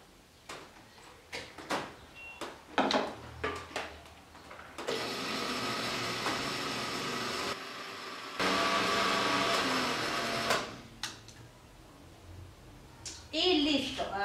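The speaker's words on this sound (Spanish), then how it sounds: "en este momento vamos a licuar lo que es la sábila" A blender liquefies aloe vera gel for a face mask: a loud, steady motor whir runs for about five seconds with a short break, framed by clattering and handling knocks before and after.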